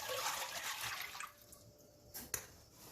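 Water poured from a measuring cup into a pan on the stove, 3.5 cups for egg drop soup, a broad splashing wash that fades out after about a second and a half, followed by a few faint clinks.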